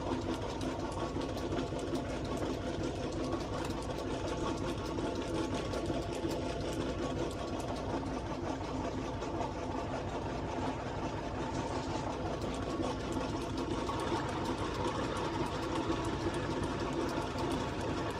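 Steady mechanical whir of a metal lathe turning a shaft while the tool bit is fed by hand, a continuous dense hum with rhythmic ripple running unbroken throughout, no talk.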